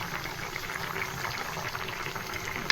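Small pieces of poa fish simmer in a pan of water on a home stove, giving a steady, soft bubbling with a faint crackle that runs evenly throughout, close and alone with no talking.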